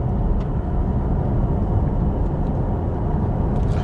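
An Aston Martin Vantage fitted with a 500 hp V8 AMG engine rolls slowly over speed bumps, heard from inside the cabin as a steady, loud low rumble with no talk.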